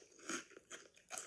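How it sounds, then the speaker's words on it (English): Three close, crisp crunches from biting and chewing crispy pork belly skin, each a short dry burst separated by brief pauses, quiet and close to the mouth with no talking. "I'm going to eat a piece with the skin just so you can hear how crunchy it is"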